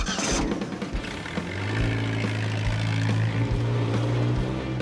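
A Model T ranch truck fitted with a Ford Pinto engine transplant drives on a shakedown run, its engine droning and revving up steadily with rumbling low tones, close and loud throughout.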